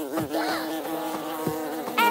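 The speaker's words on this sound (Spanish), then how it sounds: "¡Te atacaron las abejas!" A close, insistent insect buzz wavers up and down in pitch, with a swarm-like drone that keeps shifting.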